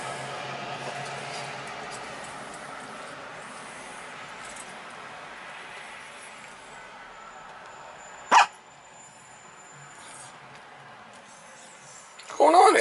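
A dog barks once sharply, then again in a short burst at the end, close by, during an air conditioning service call, with a quiet background and someone speaking.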